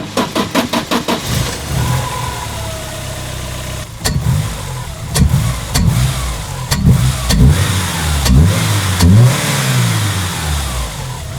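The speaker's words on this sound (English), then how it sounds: "we've decided to opt for a absolutely huge filter, which makes a rather nice noise" Porsche 944 S2 engine fitted with a very large induction filter, starting and idling with a rapid pulsing beat, then revved repeatedly in loud, close bursts that rise and drop back, with no talk.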